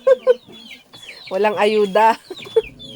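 Chickens at a mountain home cluck and squawk close by in short bursts, with one longer drawn-out call in the middle, while a person speaks briefly among them.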